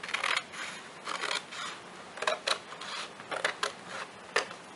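Scissors snip and trim cardboard from recycled boxes while building a dollhouse, producing a series of short, quiet crisp cuts with brief pauses between them.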